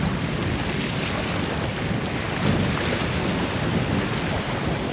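Strong wind roars steadily across the microphone on a Wadden Sea dike, a dense rushing blast with low buffeting that never lets up.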